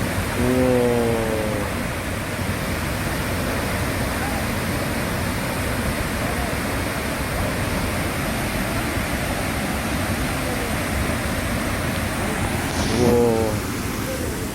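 The Cheonjiyeon waterfall on Jeju Island roars at night as a steady, dense rush of water that fills the whole scene. A voice speaks briefly near the start and again near the end.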